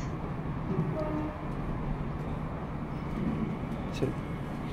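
A passenger train runs toward the next station in London, and a steady low rumble fills the carriage interior throughout with faint rattles. An announcement is spoken over it.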